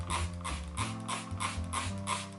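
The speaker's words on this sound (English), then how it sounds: "So I'm gonna use my spray bottle, and I'm just going to spray this down." A handheld spray bottle mists the soil of a potted peperomia, firing a rapid series of about seven even hissing bursts roughly a third of a second apart, close and fairly loud, with a low mechanical drone underneath.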